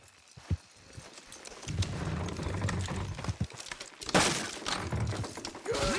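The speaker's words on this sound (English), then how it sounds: "Good horses." Horses trotting in the video game Red Dead Redemption 2, with a rhythmic clip-clop of hooves and rattling, clattering impacts building to a louder burst near the end.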